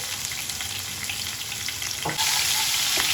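Crushed garlic with skins, cumin and fenugreek dropped into hot oil for a village-style fish curry, a steady close sizzle that jumps louder as more goes into the pan, no voices.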